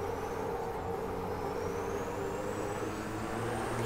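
A racing truck engine in the Formula Truck racing game drones steadily and loudly throughout, with a faint rising whine as it accelerates and no talking.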